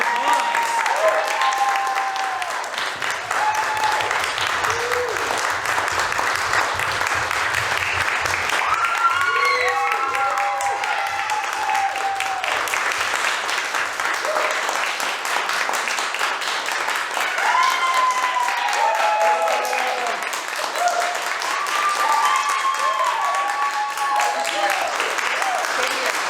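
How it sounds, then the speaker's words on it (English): A theatre audience at a student showcase claps for the returning performers, a sustained, dense wash of applause with cheers and whoops rising over it, lasting the whole stretch without a break. "Let's bring everyone back out and give them a round of applause"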